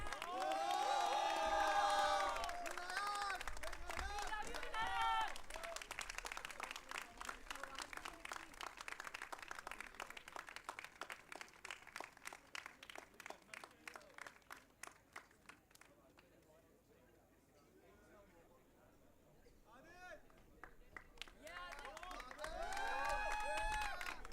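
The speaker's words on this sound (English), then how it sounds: "You can do the clapping while I walk off of the stage in style." Delegates at a Model United Nations closing ceremony clap as a crowd, with rapid rhythmic applause, cheers and whoops rising and fading over about twenty seconds.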